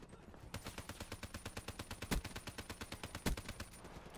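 A Peacekeeper rifle in a first-person shooter fires a fast, steady burst of evenly spaced shots lasting several seconds, loud and close, with two heavier impacts standing out partway through.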